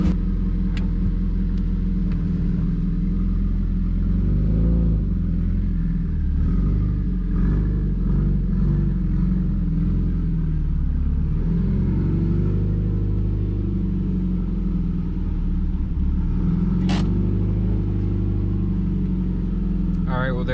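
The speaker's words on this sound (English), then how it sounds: "I'm gonna turn off the car now" A Subaru STI engine idles steadily with a deep, continuous rumble throughout, close to the car, with slight fluctuations and a brief sharp click near the end.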